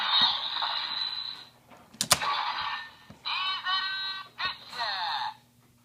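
A ToQChanger transformation toy from Ressha Sentai ToQger, loaded with the Diesel Ressha train, plays a bright electronic announcement voice and jingle. Several short bursts of tinny sound come close to the mic, with a click partway through.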